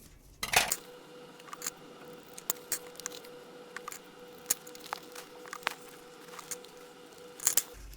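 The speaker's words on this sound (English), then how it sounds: "Get the old scissors and just cut it across nice there." Scissors snip across Velcro strips, a series of sharp, close clicks and crisp cuts spaced irregularly over a quiet background hum, with a louder burst at the start and end.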